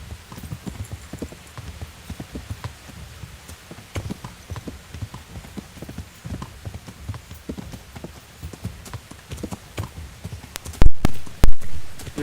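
Hooves clip-clop steadily from a horse in the medieval video game Kingdom Come: Deliverance, a dense rhythmic patter of hoofbeats close by, ending in a couple of louder thumps.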